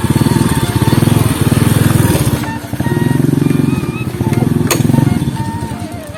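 Motorcycle engine running close by with a loud, rapid chugging pulse that swells and eases as it is revved, with voices talking over it.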